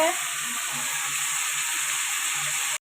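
Steady, close sizzling of fish frying in hot oil, a continuous bright hiss with faint voices underneath, cutting off abruptly at the end.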